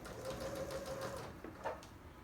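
A sewing machine stitches along the curved fabric edge of a baby bib, a steady close mechanical whir running through the first second before stopping, followed by a couple of faint handling clicks.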